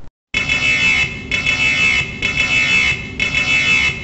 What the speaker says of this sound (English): Listen to alarm message sample.